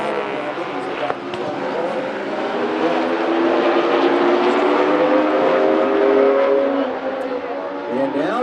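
Baby Grand race cars roar around South Sound Speedway coming off turn four, a dense, sustained engine drone that swells and fades as the pack passes, with a commentator talking over it.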